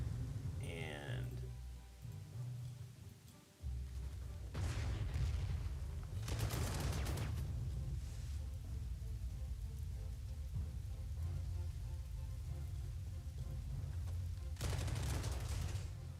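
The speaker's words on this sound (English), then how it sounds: "we are going to bombard these troops here" An artillery bombardment in the World War II strategy game Panzer Corps II lands as several heavy blasts over a constant low rumble. The explosions are spaced seconds apart, with a rattling burst at the start.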